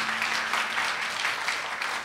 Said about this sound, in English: A collective round of applause